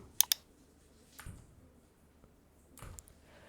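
Two quick, sharp mouse clicks ring out close and faint in a quiet room while navigating a web browser, followed by soft scattered handling noises.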